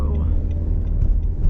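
A 2018 Nissan Rogue S pulls away, its engine a steady low rumble heard from inside the cabin under continuous road noise, with no one talking.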